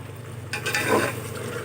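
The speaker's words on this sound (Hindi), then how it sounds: "अब अच्छी तरह भून लेंगे मसाला।" Masala being fried and stirred in a pot, a soft sizzle under a low steady hum, with a brief scraping stir in the middle.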